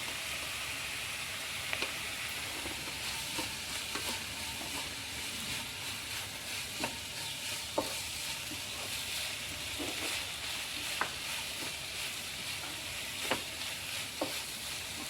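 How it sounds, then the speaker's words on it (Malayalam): Ginger garlic paste frying in a pan, a steady close sizzle and hiss with occasional soft clicks and scrapes of stirring scattered throughout, no voices. "നമുക്ക് ഇഞ്ചിയും വെളുത്തുള്ളിയും പേസ്റ്റ് ഇട്ട് കൊടുക്കാം"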